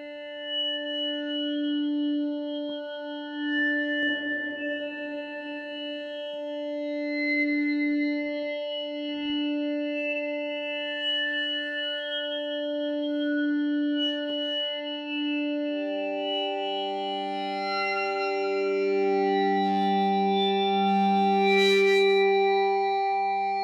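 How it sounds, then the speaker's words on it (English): Synthesizer patch from a Minifreak versus Hydrasynth sound-design match with reverb added: held chordal tones and a shift to a lower, thicker chord near the end, spacious tail, steady level, no voices. "So now for some reverb."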